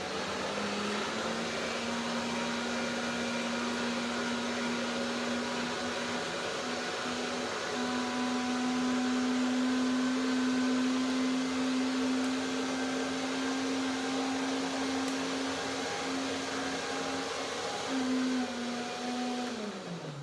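A blender runs steadily for about twenty seconds blending strawberry cream pie filling, a constant whirring motor hum that shifts slightly in pitch near the end before winding down.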